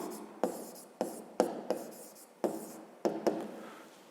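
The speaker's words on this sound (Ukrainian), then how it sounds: "Ну і запишемо тоді так." A pen writes out a math solution on paper with short, close scratching strokes. The strokes come in an uneven rhythm with small gaps between them.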